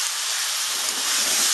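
Mutton hits a pan of fried ginger and garlic and sizzles loudly, with a steady, close hiss throughout.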